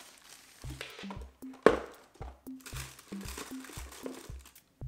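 Crinkling plastic packaging as a delivery parcel holding a Catit cat water fountain is opened, with quick crackling bursts and rustles in an irregular rhythm, close up, with faint low thuds of handling.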